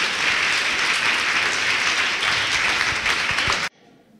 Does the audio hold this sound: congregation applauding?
yes